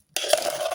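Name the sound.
carrots poured into a pan with ghee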